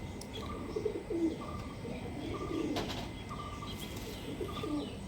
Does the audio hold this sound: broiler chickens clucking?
no